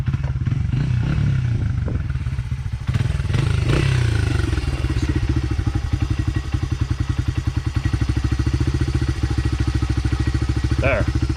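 A dirt bike's engine idles in neutral on off-road vehicle trails in Michigan. Its rapid, lumpy putter rumbles steadily up close and sounds ready to stall, with clattering and some voices in the first few seconds.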